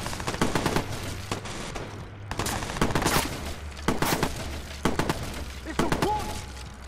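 Shotgun blasts and bursts of gunfire from the video game Watch Dogs, loud repeated booms at irregular intervals over a steady low engine-like drone, with a voice speaking briefly between shots.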